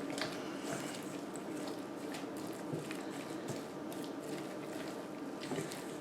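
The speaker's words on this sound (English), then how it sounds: "Mix that together." Soft, wet squishing and scraping as appetizer ingredients are stirred together in a bowl, with squeezed-out filling sounding moist and close, continuous under a faint room hiss and no talk.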